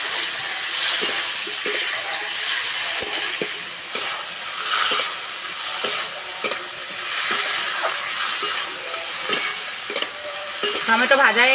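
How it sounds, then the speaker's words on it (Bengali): Tomatoes fry in oil left in the pan after frying fish, with a loud steady sizzle punctuated by frequent sharp spatula taps and scrapes. "এই তেলে টমেটো ভেজে নেব।"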